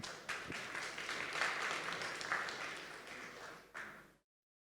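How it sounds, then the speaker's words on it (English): Audience applause at a startup showcase, scattered clapping from a crowd that swells, eases and fades out, heard fairly quiet and at a distance. "please, round of applause for Legit Software"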